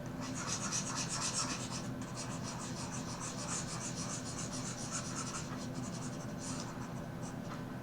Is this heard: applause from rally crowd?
no